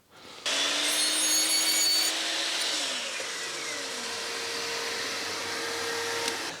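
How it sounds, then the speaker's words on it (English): A mitre saw cuts a mitre into a length of plaster coving, with a loud whining motor spin-up, a steady cutting roar, and the blade winding down, close and with no speech. "I can cut a mitre to match into this then as well"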